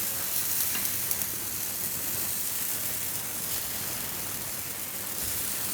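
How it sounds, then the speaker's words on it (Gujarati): Strawberry pancake batter sizzles in an oiled pan over medium gas, a steady close frying hiss that continues evenly with no voice over it. "તો એક ચમચો આ રીતે ભરીને આપણે ખીરું નાખશું એમાં."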